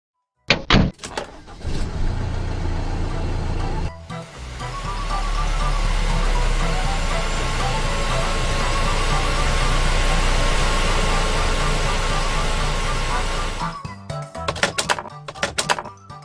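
Animated vehicle engine sound effect starting up and running steadily as a loud, continuous drone, preceded and followed by short clattering thumps, with no talk.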